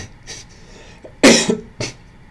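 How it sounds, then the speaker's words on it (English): A person coughs during a live coding stream: a faint breathy sound, then one loud harsh cough followed by a shorter second cough, close to the microphone with no talk. "And I can't get rid of my cough."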